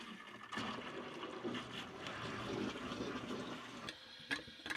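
Water and air drain with a steady gurgling hiss through the plumbing of a skoolie, a converted school bus, as a valve is opened. The sound is fairly faint and close, with a few sharper spurts near the end.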